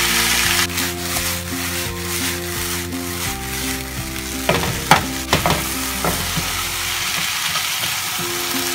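Celery and mushrooms stir-fry in a wok, giving a loud continuous sizzle with steady scraping of the spatula and a few sharp metallic knocks, close and dominant, with faint music underneath.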